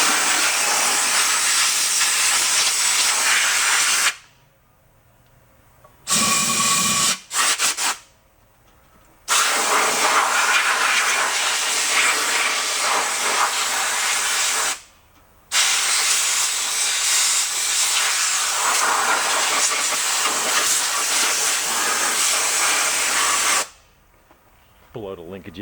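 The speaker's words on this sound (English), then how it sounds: "why don't we take some compressed air. Noise alert. See if we can get rid of some of the cobwebs." Compressed air blasts cobwebs off an old Kawasaki 550 generator: loud, close, roaring hisses in several long bursts, separated by short silent pauses.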